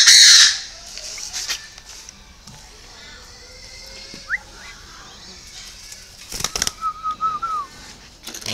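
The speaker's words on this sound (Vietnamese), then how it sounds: "Cho chim uống nước." Young dove chick being hand-fed water, giving a loud burst of squawking at the start, then softer intermittent chirps and calls with some rustling and brief clicks over the rest.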